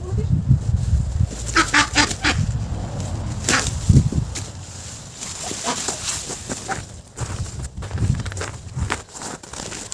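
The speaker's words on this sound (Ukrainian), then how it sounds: "Подивіться, ось така у нас літаюча індокачка." Several honks and squawks from a Muscovy duck close by, scattered across the clip amid rustling, flapping, and outdoor noise.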